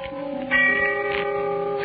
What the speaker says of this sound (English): the sound of the distant bell faded out